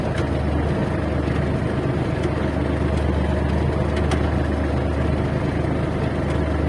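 A tractor moving slowly in third gear while planting potatoes gives a loud, steady engine drone with a low rumble, close and unbroken throughout, with no talking.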